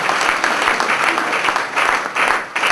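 A room full of people at a celebration clapping, loud and continuous, with a few swells and dips in intensity.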